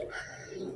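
A pigeon coos once, a short soft throaty call close by, kept at a low level.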